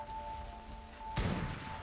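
A creature in the ARK video game shooting ice flames, a sudden loud whooshing, roaring blast that breaks in over a steady background hum and keeps going, with no talking.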